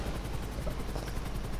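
Helicopter in the video game GTA 5 Online, a steady rotor drone with a fast regular chopping pulse, constant and moderately loud with no talk over it.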